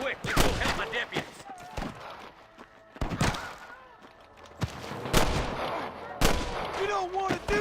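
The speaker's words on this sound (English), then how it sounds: "I can hear more gunshots." Scattered sharp gunshots and booming blasts in Red Dead Redemption ring out irregularly amid a busy, noisy mix with some voice-like sounds underneath.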